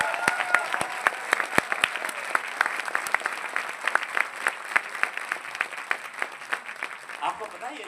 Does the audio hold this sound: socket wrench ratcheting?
no